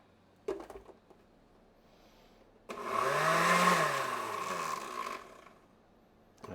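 A kitchen blender whirs loudly for about two and a half seconds while blending jackfruit, its motor straining with a wavering, labouring pitch, set between a few brief clatters and a quiet room.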